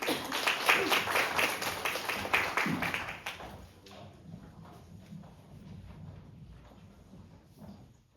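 Audience applause at a Korean tourism-revitalization contest, a dense burst of clapping for the first three seconds before thinning into scattered claps and room murmur.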